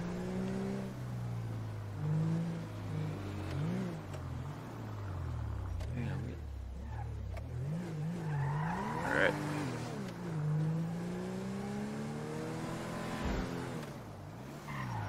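A speeding car in a Blaine County sheriff patrol game roars past, engine pitch rising and falling with revving and a brief tire squeal, fairly close over steady road noise.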